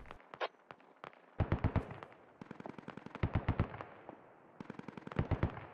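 Bursts of automatic gunfire in the tactical shooter Squad, several rapid rattling volleys with single shots between, fairly loud and crisp, no talking over them.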